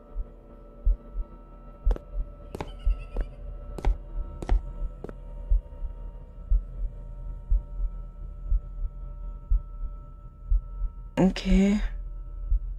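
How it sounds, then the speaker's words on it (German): Repeated heartbeat thuds from the video game I Won't Forget Hue, a steady loud pulse running throughout, with a few sharp clicks early on and a brief spoken word near the end. "Wieso ist da so ein Herzklopfen?"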